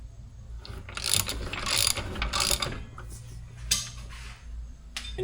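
A ratchet clicks in quick bursts as tension is wound onto a bumper roller, the close metallic ticking over a low mechanical hum with a few pauses between strokes.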